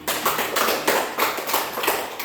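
A classroom of children claps together, a dense, continuous burst of applause up close that keeps going for a couple of seconds.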